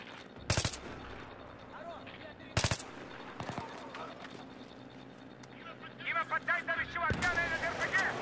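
Shotgun blasts in Battlefield 3, two loud sharp booms and a softer shot against a rumbling game backdrop, with a player talking over the later part.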